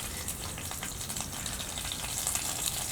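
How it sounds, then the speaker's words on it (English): Onions hitting hot oil for a chicken vindaloo, giving a steady broadband sizzle and crackle that stays fairly even and close for the whole span, with no talking over it. "I'm just going to add the onions."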